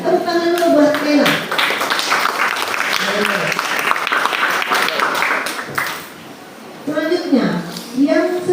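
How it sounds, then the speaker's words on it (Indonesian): Classroom applause for a student in a ninth-grade science class in Singkawang, a steady dense clatter of many hands clapping for several seconds under a teacher's voice and children's chatter, dropping off near the end as talking resumes. "Tepuk tangan dulu buat Kayla."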